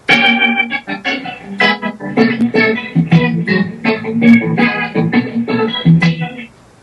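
Rhythmic sustained chords from an effected guitar imitating a church organ swell and stop in short bursts, giving a full, organ-like tone, loud and close.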